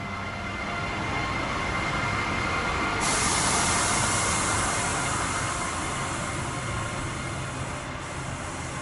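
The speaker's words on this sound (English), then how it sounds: "909 pushes its passenger train into another siding." An electric locomotive pushes its passenger train into a siding, giving a continuous close rail rumble with a bright hissing wash that swells after a few seconds and holds, no voices.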